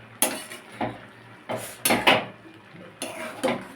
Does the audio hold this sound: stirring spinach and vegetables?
yes